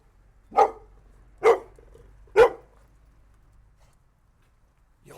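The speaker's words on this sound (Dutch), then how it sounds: "Blaffen en kwispelen." A dog barks three times in steady succession, each bark loud and close, with a quiet pause after the last and no talk over it.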